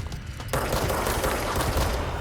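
Gunfire in the video game Control breaks out after a quiet half second, a dense, steady barrage of shots that stays loud and close to the end.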